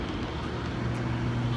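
Steady broadband roar of highway traffic heard from directly above the road, loud and continuous with a low rumble throughout and no speech.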